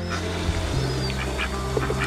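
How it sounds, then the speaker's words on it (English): Ducks quack in short, fairly close bursts over steady outdoor background noise near a caravan spot in Swansea, Tasmania, with no talking. "Ducky duck."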